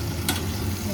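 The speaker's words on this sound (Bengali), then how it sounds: "আলুটাও ভাজতে চালিয়ে দিই" Potatoes frying in a pan of hot oil in a home kitchen, a continuous close sizzle with a brief louder burst of crackle near the start, no talk.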